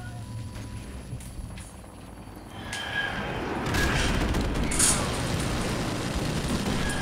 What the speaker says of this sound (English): My helicopter's still up.